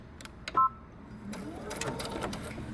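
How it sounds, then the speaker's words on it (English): A home sewing machine back stitches on a long basting stitch in a dressmaking job: a few quick clicks, then a short burst of rapid mechanical stitching close by, with no voice over it. "let's go ahead and go to the sewing machine, and we're going to gather from one dot to the other"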